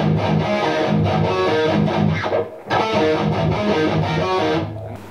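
Distorted electric guitar plays a riff, with tight palm-muted chugs and a rhythmic thrash pattern, loud and alone; a brief break near the middle comes before the riff repeats.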